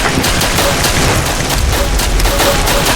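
Rapid, dense gunfire bursts in a video game while players hunt an invisible Ghostface, a loud overlapping fusillade of shots that runs continuously with no voices heard.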